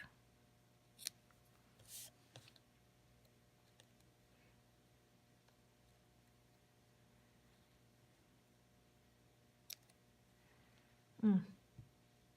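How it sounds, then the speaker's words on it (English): Scissors snip through the edges of a ribbon on a tulip and daffodil floral craft, a few quiet, brief cuts scattered across a mostly still background, ending in a louder crisp snip near the close. "I'm going to cut the edges off."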